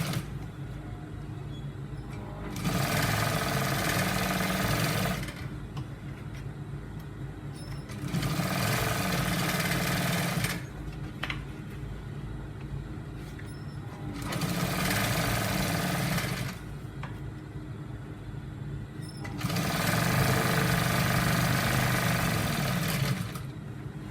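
Sewing machine stitching trouser fabric in four long bursts of steady, fast mechanical whirring, each run lasting several seconds and separated by quieter pauses, with no talking.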